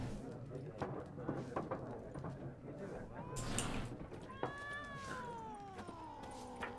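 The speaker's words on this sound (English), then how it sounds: "Cat." A cat meows in the video game The Witcher 3, a drawn-out, wavering cry rising and falling near the end, amid background ambience and voices talking.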